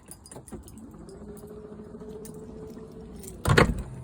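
Quiet mechanical rustling and rattling lead into a loud clunk and scrape as the faulty boot lock latch of an Audi Q3 with a failing striker mechanism is pushed shut.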